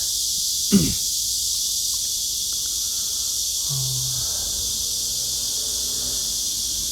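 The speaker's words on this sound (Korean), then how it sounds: "조용하더니만 매미가 오니까 주위가 굉장히 데시벨이 높아요" A dense, high drone of cicadas in Korea fills the air continuously, steady and loud, in chorus, with a brief knock and a low hum passing underneath.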